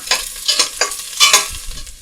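Minced garlic and onion frying in hot oil in a pan for a Chinese napa cabbage and tofu stew, close sizzling with repeated scraping stirs of a utensil in quick uneven strokes.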